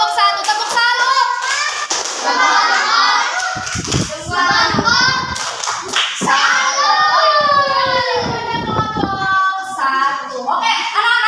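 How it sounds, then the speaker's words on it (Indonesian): Classroom children performing a rhythmic salute clap, sharp patterned handclaps mixed with loud chanting voices throughout. "Beri tepuk salut untuk kelompok 1"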